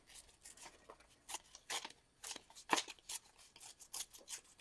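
Paper artwork is torn apart in a series of short, crisp ripping bursts at an irregular rhythm, close by and fairly quiet.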